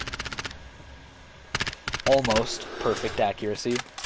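Rapid bursts of MP7 submachine gun fire in Call of Duty Modern Warfare, loud hipfire strings broken by short pauses, with someone talking over the later shots.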